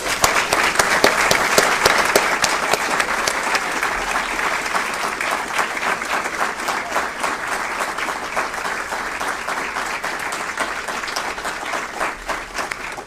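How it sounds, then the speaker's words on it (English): A large audience at a Defense Information School Hall of Fame ceremony claps steadily for over ten seconds, the applause loud at first and settling into an even, continuous patter. "Let's have one more round of applause for the Defense Information School Hall of Fame class of 2022."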